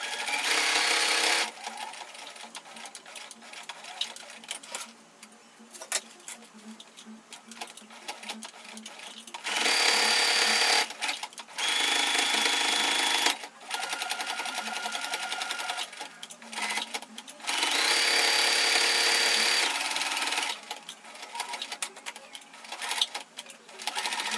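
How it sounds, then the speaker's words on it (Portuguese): Sewing machine stitching a seam through a cloth sanitary pad, running in several long mechanical bursts with short pauses between and soft sounds in the gaps. "E vou pegar outra costura e bater aqui no meio, ó, deixando um pezinho, só pra deixar o absorvente mais achatadinho"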